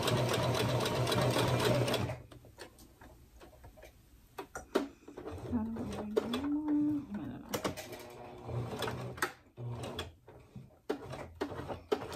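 A home sewing machine running on a tile floor, stitching and then making a back stitch. It gives a fast, steady mechanical ticking in short bursts with brief pauses, and someone talks at the start.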